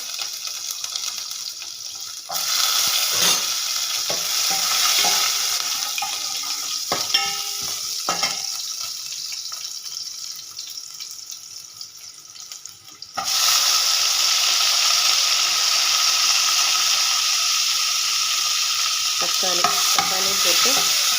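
Onions fry in hot oil with fennel seeds in a home kitchen, producing a loud, steady sizzle with stirring scrapes; the hiss drops for a while, then surges back louder.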